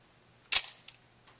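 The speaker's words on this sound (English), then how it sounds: "You can see how the shutter operates as you release the shutter button" A 35mm film camera shutter release gives a single sharp mechanical click with a brief whirring tail, followed by a faint second click, close by in a quiet room.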